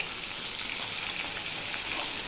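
Pointed gourd (potol) pieces frying in hot oil with turmeric and salt, a steady, close, even crackle and hiss with no pauses.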